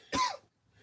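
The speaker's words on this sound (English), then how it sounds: "we definitely getting off because we coughing over here" A single short cough close to the mic, a rough burst followed by quiet.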